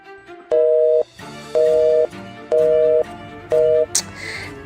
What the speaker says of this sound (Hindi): सिद्धार्थ सर अभी तक नहीं आया और ना ही वो अपना फोन उठा रहा है।